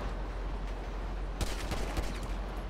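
Gunfire in GTA pops out as a short burst of several quick shots partway through, over steady loud background rumble, with no voices.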